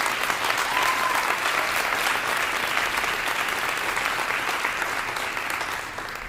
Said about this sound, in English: So please give a big round of applause to Leah.